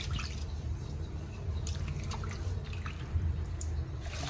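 Clean water splashes and drips over cut pieces of a 3.5 kg tuna during a final rinse, a soft, close trickle with scattered light drips throughout.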